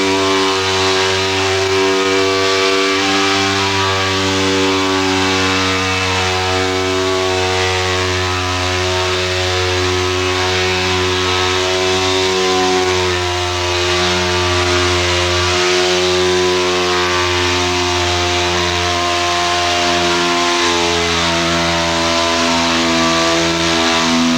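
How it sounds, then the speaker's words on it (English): Jitterbug sander with 40-grit paper cutting into car body filler during auto body repair, a loud, continuous motor whine with a buzzing harmonic drone that runs steadily from start to finish, alone without talk. "Just let the jitterbug work."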